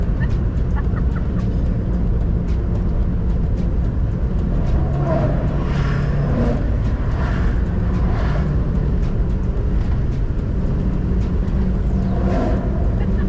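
A car rolls across a grooved bridge deck, tires humming with a rough, steady drone and a few sharper chirps and squeals from the tread over the ridges, loud and close throughout.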